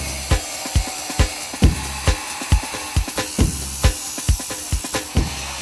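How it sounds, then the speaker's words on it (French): Angle grinder worked by a pipefitter on pipe, giving a run of sharp, evenly spaced bursts over a steady high grinding hiss, fairly close and loud with no talking. "La meule fait partie intégrante du métier de tuyauteur"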